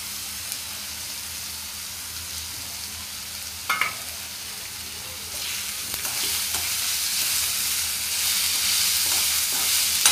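Chicken kheema sizzles in a pan with garam masala added while it is stirred: a constant close frying hiss that grows louder toward the end, with occasional scrapes and taps of the spoon.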